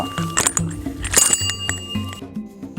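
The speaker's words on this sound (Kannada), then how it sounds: "ಆ ಕಡೆಯಿಂದ ಗಂಟೆಯ ಸದ್ದು ಕೇಳಿಸಿಯೇ ಬಿಟ್ಟಿತು" An elephant's bell rings in several quick, bright, metallic strikes at an elephant camp in Bandipur, close and clear, with soft clinks and rustling between rings.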